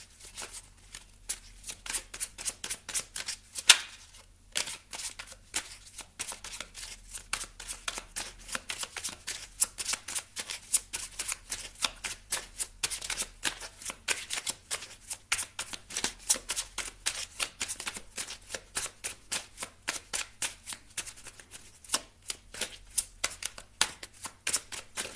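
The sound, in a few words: shuffling oracle cards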